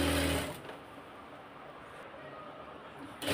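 A sewing machine stitches a seam on a pyjama, taking it in by an inch, with a steady close whirring run that starts after a brief louder moment and continues for about three seconds before stopping.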